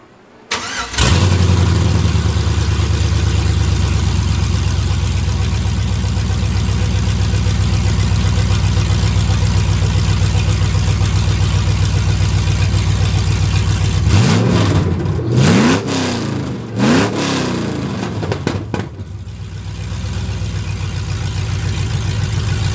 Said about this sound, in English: You have to start the truck when it's open header.